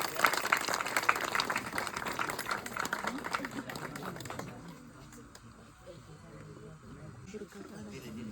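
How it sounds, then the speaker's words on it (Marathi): A gathering of classmates at a 10th-standard batch get-together breaks into loud, dense clapping, which fades after about four seconds into quieter room noise and a few scattered claps. "टाळ्या वाजवून सन्मान करायचा आहे."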